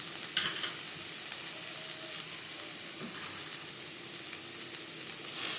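Carrot and cabbage stir-fried with spices in a pan, giving a steady, fairly quiet close sizzle with light stirring scrapes and a few soft clicks throughout.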